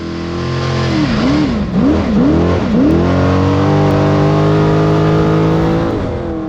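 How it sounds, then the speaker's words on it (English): An off-road UTV race car roars through a short course into rough desert terrain at King of the Hammers, its engine revving hard with several quick pitch dips as it shifts, then holds a loud, sustained drone. "Watch how this car just flies through the short course and out into the rough desert."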